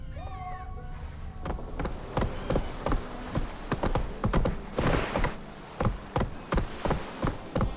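Horse hooves clip-clop steadily on hard ground in The Witcher 3, the regular strikes loud and close, with a brief high animal call near the start.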